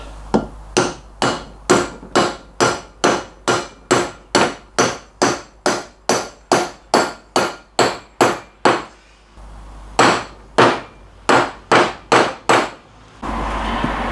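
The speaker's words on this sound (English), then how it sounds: "I'll just give that a tap down with a soft hammer" Soft hammer tapping a wheel bearing into place on a car hub, about two dozen loud, close, evenly spaced blows in a steady rhythm, with a short pause before the last few strikes.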